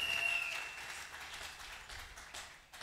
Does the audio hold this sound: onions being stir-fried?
no